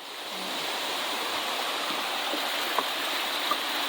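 A waterfall in the mountains of Transylvania County, North Carolina roars with a steady, dense rush of water, broad and constant, with no voices.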